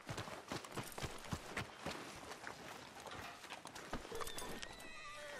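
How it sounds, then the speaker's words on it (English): Horse hooves clip-clopping in the video game Red Dead Redemption 2, an even rhythmic beat of hoof strikes at a moderate pace, close and fairly faint, with a soft whinny-like tone near the end. "Are you gonna mount that new horse of yours or not?"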